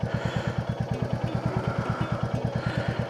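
A motorcycle engine runs loud and close during a ride, with a fast, even pulsing thump throughout and no talk.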